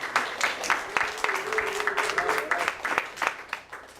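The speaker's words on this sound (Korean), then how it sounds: "함께 뜨거운 박수 한번 환영합니다." A church congregation claps warmly to welcome young adults who have just graduated from the high school group; the applause is moderately loud and steady, with a voice carrying over it.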